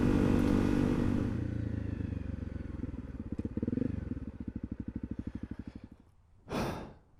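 Honda CRF250L motorcycle heard while riding, its engine a steady low drone that breaks into a rapid pulsing idle-like rhythm before cutting out, followed by a short rushing burst.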